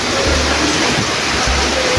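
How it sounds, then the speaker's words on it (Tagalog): Heavy rain pours down outdoors during a rainy day in the Philippines, a loud, unbroken broadband hiss with no pauses or talking. "Ayan po, sobrang ulan."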